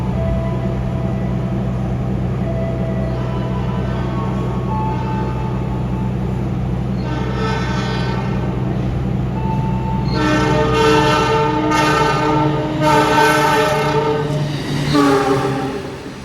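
A CC201 diesel locomotive rumbles steadily nearby, its low drone constant, with a horn sounding in repeated blasts toward the end.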